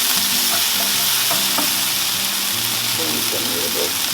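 Kale stems sauté in a pan and are stirred with a wooden spoon, a steady close sizzle with scraping strokes under intermittent background sound.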